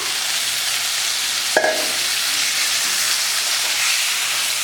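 Marinated mutton tipped onto softened onions in a pan, giving a steady broad sizzle with a brief clatter as it lands and then continuous frying hiss while being stirred.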